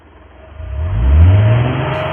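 A car engine revving up hard as a radio play sound effect, a loud mid-pitched roar climbing steadily over two seconds, alone without talk.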